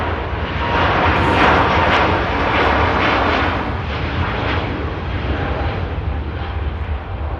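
A Singapore Airlines Airbus A350 takes off from runway 05 left at Manchester Airport, its engines a loud, steady, broadband roar that swells slightly and then eases as the jet climbs away.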